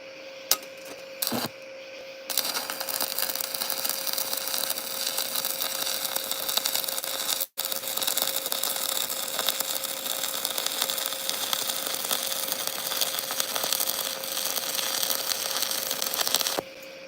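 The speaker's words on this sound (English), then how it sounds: "And we're just going to weld this sucker out." Cheap stick welding at close range makes a loud, steady crackling hiss that runs continuously for many seconds after a few short starts, with one brief break partway through.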